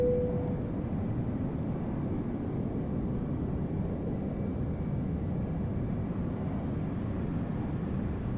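Steady low jet engine roar of an L-1011 TriStar airliner in Flight Simulator X during pushback at Dallas, a continuous broadband rumble with a faint whine held at even loudness throughout.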